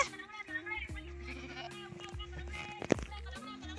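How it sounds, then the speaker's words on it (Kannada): A sheep bleats outdoors in a village during a Rama Navami celebration, a few wavering cries mixed in with people talking nearby. "ಕುರಿ ಅಲ್ಲವೇ"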